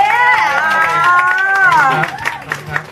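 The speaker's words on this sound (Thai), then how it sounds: "ปรบมือต้อนรับเขาหน่อยสิ" A crowd claps and cheers over a voice speaking loudly with a pitched, singsong tone, and the applause fades into scattered claps.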